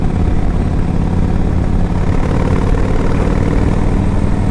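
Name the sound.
2005 Yamaha Road Star 1700cc motorcycle engine running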